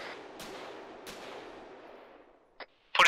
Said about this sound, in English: Yeah, I wasn't sure, so warning shots.